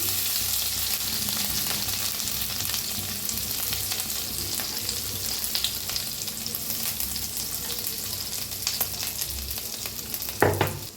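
Cumin seeds, asafoetida and a pounded chilli-garlic paste fry in hot oil for stuffed chillies, making a steady low sizzle with light crackling and a brief clatter near the end.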